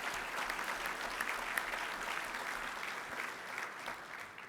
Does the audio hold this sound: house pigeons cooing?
no